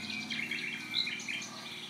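Forest birdsong played back from a relaxation sound app, several small birds chirping and trilling continuously over a low steady hum, with brief brighter whistles, no voices.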